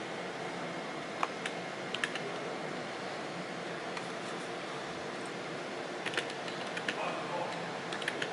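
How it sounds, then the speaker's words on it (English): One-handed typing on a computer keyboard during a car ride: sparse, scattered key clicks, a few in quick clusters, sitting faintly over a steady road rumble. "Typing one-handed because I'm awesome."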